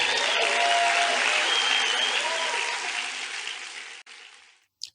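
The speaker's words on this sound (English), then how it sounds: "Give yourselves a round of applause for being here again." An audience at a motivational seminar applauds itself, with broad clapping that starts full and gradually thins and fades, ending with a brief sharp noise.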